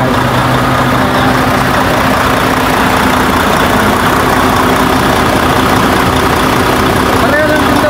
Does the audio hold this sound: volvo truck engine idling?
yes